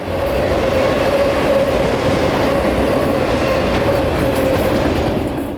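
A train, locomotive 453, rumbles past in Central Florida, a loud close continuous roar of wheels and cars with a steady rhythmic clatter and a faint squeal, fading slightly at the end.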